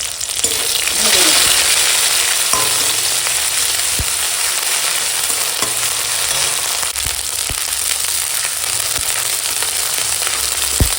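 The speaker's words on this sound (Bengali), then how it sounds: "এখন ফোড়নটা ভাজা হয়ে গেছে" Spices, chopped onions, green chilies and ginger-cumin paste sizzle and crackle steadily in a hot pan, with occasional scraping clicks of stirring throughout.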